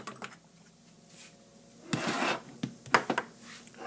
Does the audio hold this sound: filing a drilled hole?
yes